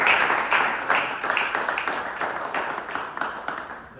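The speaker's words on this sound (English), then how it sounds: "I want everybody to give a big round of applause for Monty" A cricket team in a happy dressing room gives a round of applause for Monty: steady, rhythmic group clapping that rises and falls in waves, fairly close and lively.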